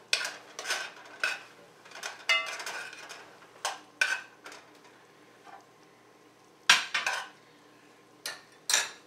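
A spoon mixes turkey fricassee in a pot, making intermittent clinks and scrapes against the metal in irregular bursts with quiet gaps between them.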